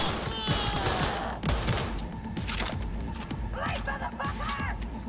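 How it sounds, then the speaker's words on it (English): Enemy gunfire in Cyberpunk 2077, repeated shots and bursts crackling through a busy firefight with impacts, loud and continuous. "Okay, so they're shooting from there."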